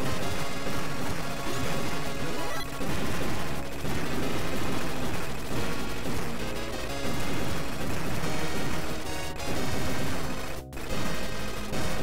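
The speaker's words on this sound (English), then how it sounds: "The weapon that I like is a machine gun, because it's concentrated," Capcom's arcade game 1943 plays dense, continuous rapid machine-gun fire layered with explosions and loud game music, a busy wall of arcade sound with one sharp burst near the end and no speech.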